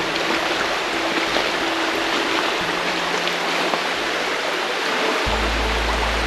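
Water rushes steadily in a flowing forest stream in Konni Reserve Forest, a continuous close broadband wash with no voices.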